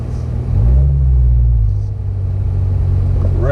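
A Chevrolet Corvette C8 rolls up alongside, its engine giving a deep low rumble that swells briefly as it pulls in, then settles into a steady idle burble close by.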